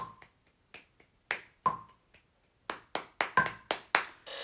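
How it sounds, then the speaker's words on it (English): Hands clap out a rhythm during violin practice built around Indian rhythmic exercises. Sharp, close claps arrive scattered at first, then settle into a quicker, steadier run of strokes with no talking. "Let's try and clap."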